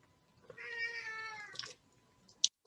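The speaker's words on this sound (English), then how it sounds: "my cat is meowing at me." A house cat meows indoors: one drawn-out, fairly quiet meow close by, followed by a short sharp click near the end.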